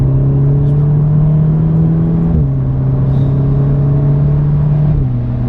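A 300 bhp Volkswagen Golf R engine drones loudly at high revs under full throttle with a steady tone, dipping briefly at two gear shifts as it keeps accelerating.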